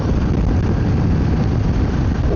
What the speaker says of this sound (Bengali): হাওয়া দিচ্ছে দেখো, বাইক কাঁপিয়ে দিচ্ছে ভাই